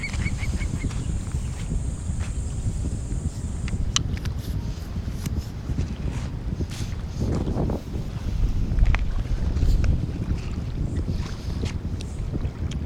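Steady wind roars across the microphone at a beach campground in Zambales with a constant wash of surf, broad and unbroken, a faint high tone fading early.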